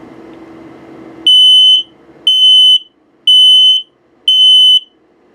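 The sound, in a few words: RV detector alarm test: LP gas, carbon monoxide, low battery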